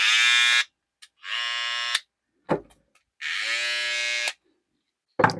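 A BaByliss Pro FX hair clipper's motor switches on and off in short bursts, a bright high-pitched electric whine lasting about a second each time, separated by silence and a couple of clicks from the switch.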